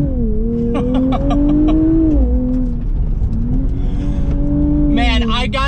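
A Nissan Z Nismo sports car drives on the road, its engine note steady and close, rising and falling with the throttle through the whole stretch, with brief clicks and a sharper high whine near the end.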